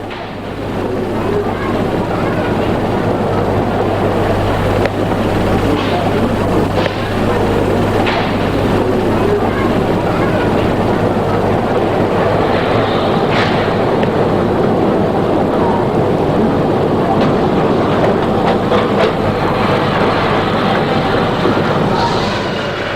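Steam locomotive 994632 arriving at Binz from Putbus, a continuous rolling rumble with hiss and occasional clanks and knocks, loud and sustained throughout.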